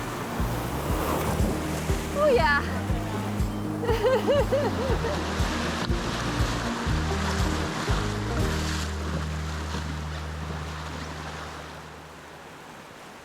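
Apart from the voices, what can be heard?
Snake River waves and rapids during rafting trip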